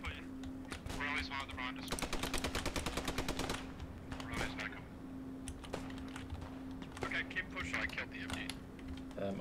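Rapid bursts of machine gun fire in the Post Scriptum World War II shooter, a dense rattling volley around two to four seconds with more scattered gunfire after, heard under a player's talk and battlefield ambience.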